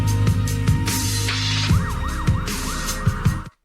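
A siren sample inside a music track wails in repeated rising and falling sweeps over a thumping beat and bass, ending abruptly in silence.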